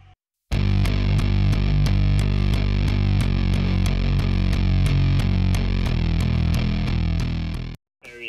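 A heavily distorted bass guitar from a rock song plays alone, loud and continuous, with a steady pulsing rhythm of repeated notes before stopping abruptly.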